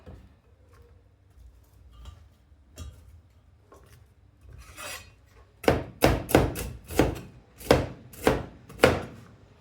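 Cauliflower is chopped on a cutting board: a few light taps and shuffles at first, then a run of about eight sharp, evenly spaced knife chops close by, with no voices.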